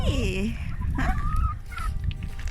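Chickens cluck and squawk close by in a short burst of several calls, with background noise and a little talk mixed in.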